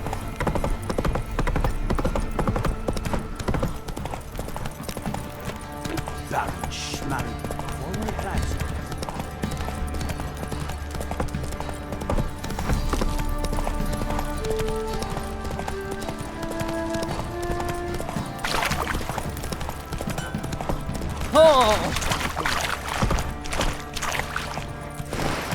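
In The Witcher 3, the horse Roach gallops with a steady, rhythmic clip-clop of hooves, heard close alongside game music and spoken dialogue.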